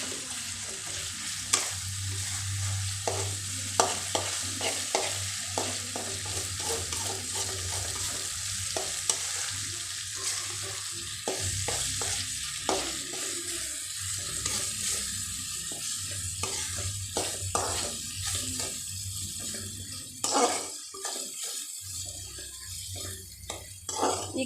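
Egg masala fries in a pan for egg bread masala while a spoon stirs it, a steady sizzle broken by frequent scraping strokes and soft clinks against the pan, ongoing for over twenty seconds.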